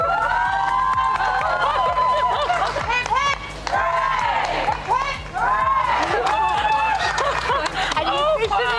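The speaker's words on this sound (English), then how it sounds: "And you officially get the biggest cheer as well." Crowd cheering and applause at a Chelsea Flower Show medal presentation, a loud sustained roar of many voices with shouts and whistles across the whole stretch, briefly dipping once or twice before surging again.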